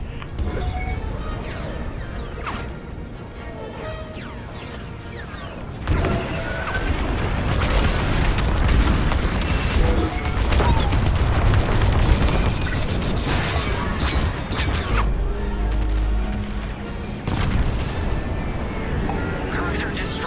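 A capital-ship cruiser blowing apart in the Star Wars: Squadrons space-combat game: sustained heavy rumbling booms and crashing debris with engine roar and weapon chatter, loud and continuous, with voices talking over it.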